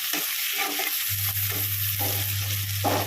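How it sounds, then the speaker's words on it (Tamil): Capsicum sautéing in a pan for spicy chilli chicken, giving a steady close sizzle with a low constant hum under it and a few faint stirring scrapes, no voices. "இது ஒரு முக்கால் பாதத்துக்கு குடமிளகா வதங்கினா போதும்"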